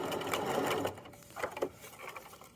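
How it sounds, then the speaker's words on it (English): A sewing machine back stitches the bottom seam of a drawstring backpack, a close, fast whirring stitch that pauses briefly, then resumes in shorter bursts. "And then I'll back stitch at the end here."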